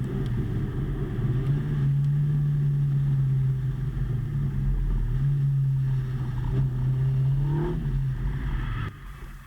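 A GBS Zero British sports car spins on a track, its engine holding a close, steady tone that wavers and shifts in pitch as it slides, then drops away abruptly near the end.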